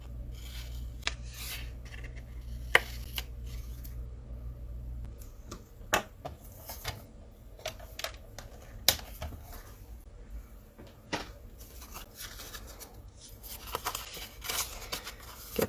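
Scissors cutting paper craft pockets for a mini one-sheet scrapbook album, heard as soft raspy snips and rubbing paper rustles with scattered sharp clicks, close and fairly quiet, with no talking.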